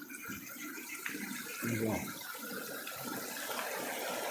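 Water trickles and splashes softly through a channel, a low uneven flow with a brief louder gurgle in the middle.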